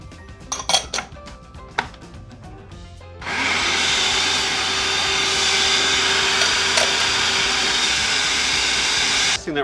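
A food processor grinds ginger and garlic in a kitchen, a steady loud whir that starts suddenly after a few clinks and knocks and runs without pause for about six seconds before cutting off.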